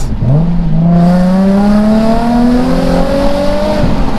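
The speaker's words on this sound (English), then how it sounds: "I really like the sound of this V6." A Nissan 350Z's V6 engine revs hard and close, its exhaust note climbing steadily in pitch over several seconds, loud and raspy.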